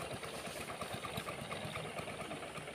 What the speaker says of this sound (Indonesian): saya menggunakan perahu pakai mesin